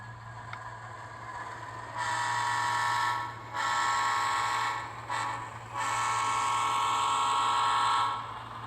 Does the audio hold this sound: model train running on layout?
yes